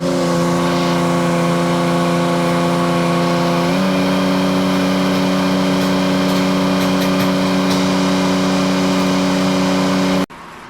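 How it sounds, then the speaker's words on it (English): Engine of a farm tractor (8130) or red pickup being moved, a loud steady droning idle close by with a slight pitch drop partway through, cutting off abruptly near the end. "I'm gonna have to move the 8130 and the red pickup"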